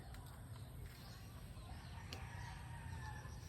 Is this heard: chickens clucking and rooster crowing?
yes